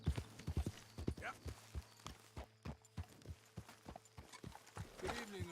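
Horse hooves clip-clop in a steady walking rhythm, clear and fairly close, with a short whinny-like call near the end.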